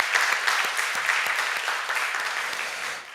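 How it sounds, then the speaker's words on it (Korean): Worshippers at a Friday prayer meeting in church give a short burst of dense, even applause that fades toward the end. "우리 하나님께 영광의 박수, 영광의 박수"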